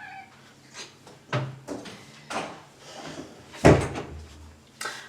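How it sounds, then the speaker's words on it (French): A cat called Orion is let in at a door indoors, giving a few separate knocks and bumps against the door and short soft cat sounds, spaced irregularly and close by, with no talking. "Je vais ouvrir à Orion qui va me défoncer la porte."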